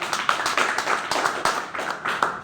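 Audience hand clapping at a motivational talk, a steady run of fairly close claps in uneven rhythm, moderately loud with no voices over it.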